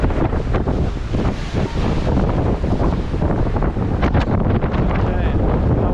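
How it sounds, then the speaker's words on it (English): Ship engines drive a vessel cruising across the Baltic Sea toward Stockholm, a steady loud rumble blended with rushing wind buffeting the microphone and water noise, continuous throughout. "these engines really power this along"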